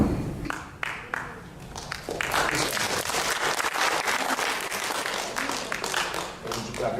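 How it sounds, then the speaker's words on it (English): An audience claps during a product demonstration: dense, fairly loud applause with a few sharp separate claps at the start. A voice speaks over part of it. "When you clap your hands, of course, it's hard to perform magic."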